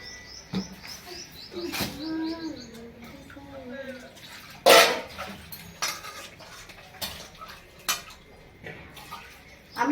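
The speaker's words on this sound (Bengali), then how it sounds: "আমার মাছ ধোয়া দেখো ভোলা মাছ" Bhola fish are rinsed in water with splashing and the clatter of a pot or dish, while birds chirp nearby and brief knocks break through.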